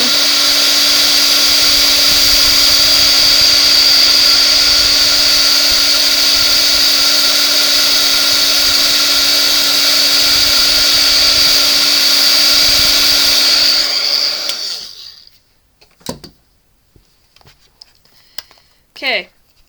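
A heat embosser, or heat gun, melting embossing powder on a pumpkin window card, a loud steady whirring hiss close by that runs for about fourteen seconds, then cuts off, leaving a few faint handling clicks.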